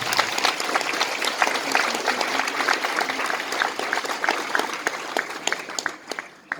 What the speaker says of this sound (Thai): ขอเชิญชวนพวกเรา ปรบมือขอพระคุณท่านประธานครับ